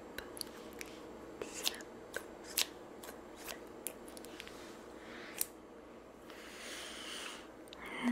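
Sharp scissors snip close by in a quiet, intimate ASMR setting, a string of crisp, irregular cuts with brief pauses between them.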